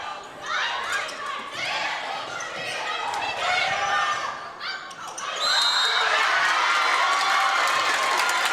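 A crowd at a women's college volleyball match against Montana Western roars steadily at match point, with cheering, shouting and stomping that swell louder toward the end while a commentator talks over the noise.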